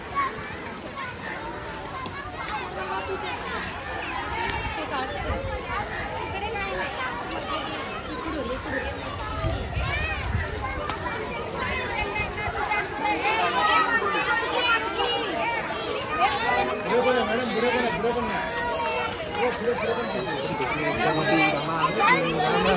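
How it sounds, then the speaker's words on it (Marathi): A crowd of children playing and chattering at Byculla Zoo (Rani Baug) in Mumbai, dense overlapping young voices, shouts and squeals from nearby, steady and lively throughout, growing slightly louder toward the end. "मुलांची गर्दी आहे इथे"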